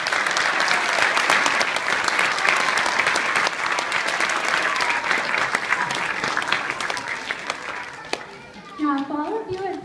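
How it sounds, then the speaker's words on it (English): Sustained audience applause at a school Christmas event, dense clapping loud and steady for about eight seconds before fading, with children's voices chattering as it dies down. "deserve another round of applause."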